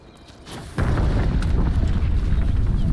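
In the game Starfield, an explosion goes off with a low, rumbling boom after a quieter start, leaving a sustained heavy rumble that carries on to the end, with no talk.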